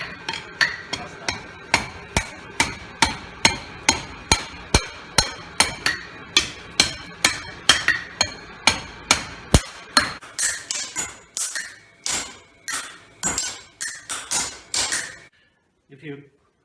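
Steady hammer blows ring out on hot steel at a blacksmith's forge during knife making in a workshop in Kochi, Japan, about two strikes per second, loud and close, slowing into sparser, lighter taps toward the end.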